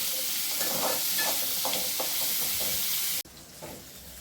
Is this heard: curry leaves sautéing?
yes